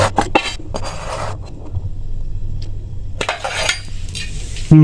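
A homemade pizza is lifted out of a frying pan with metal clinks and scrapes of utensil against pan over a steady background hiss, close and fairly loud.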